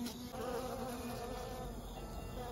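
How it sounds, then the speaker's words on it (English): Honeybees flying around a trap-out on a house, a continuous faint buzzing hum of many insects in the air nearby, steady throughout with no voices. "the other bees that are in the air can start finding her"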